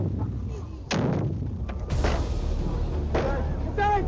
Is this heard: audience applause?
no